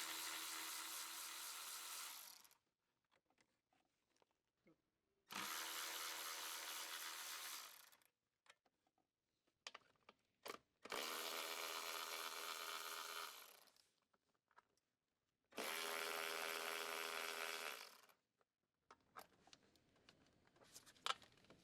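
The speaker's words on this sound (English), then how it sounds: "Using a 10 mm deep socket and adapter, electric ratchet, remove the intake manifold bracket retaining bolts." An electric ratchet with a 10 mm deep socket spins out intake manifold bracket bolts on a 2012-2017 Jeep Wrangler JK, four loud whirring bursts of about two to three seconds each, separated by quiet gaps with faint clinks.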